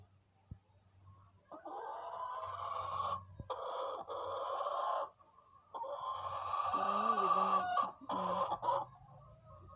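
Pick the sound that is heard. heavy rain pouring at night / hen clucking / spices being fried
hen clucking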